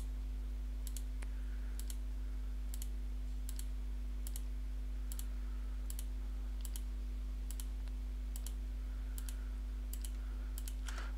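Crisp, single computer mouse clicks land roughly once a second, eleven or so in a steady rhythm, as circles are selected in engineering software, heard alone over a constant low electrical hum.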